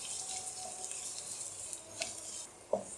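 Chopped onions and carrots fry in oil in a pan for a veg macaroni, giving a soft steady sizzle with a few light stirring clinks near the end, close and alone.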